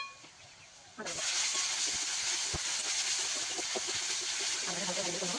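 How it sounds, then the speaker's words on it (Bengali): Ginger dropped into a hot pan for a green capsicum chicken curry bursts into a loud hiss after a quiet second, then keeps up a strong, steady sizzle close by, with a faint voice near the end. "আদাটা ভালো করে ভাজা করে নেবো।"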